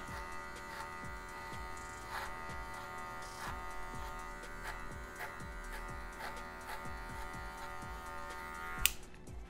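Electric hair clippers buzzing steadily and close while cutting a fade on spiky hair, with rhythmic strokes through the hair and a sharp click near the end.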